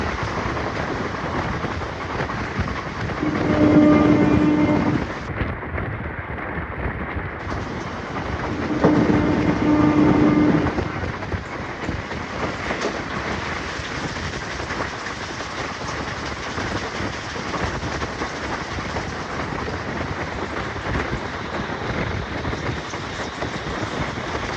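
A moving superfast express train from Mysore to Renigunta, heard from inside with a continuous rumble and clickety-clack of wheels on rails, two louder swells and wind noise throughout.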